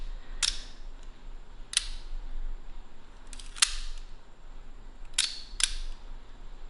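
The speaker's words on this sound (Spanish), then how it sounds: "podemos ver también el orificio cuando se abre del obturador, lo que quiere decir que los mecanismos de esta cámara sí funcionan." An old analog film camera's shutter firing five times, each a sharp, close mechanical click spaced irregularly over a faint steady hiss, with no talking.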